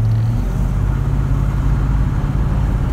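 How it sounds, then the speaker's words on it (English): A 1989 Chevy Silverado with a V6 engine, a loud, close, continuous deep engine rumble with a steady throb, the pitch shifting slightly early on, with no talk. "This thing does not sound like a V6, however. Sounds like a very strong V8."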